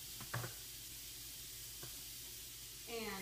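Zucchini spaghetti stir-frying in a pan gives off a steady close sizzle throughout, with a few brief clinks of utensils near the start and middle and a rising hiss toward the end.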